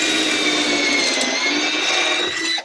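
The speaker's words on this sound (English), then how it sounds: "we set up the pocket hole jig, and we have marked our boards and drilling these pocket holes" A drill bores pocket holes into scrap wood boards held in a pocket hole jig, a loud, steady high whine that runs continuously nearby before cutting off abruptly at the end.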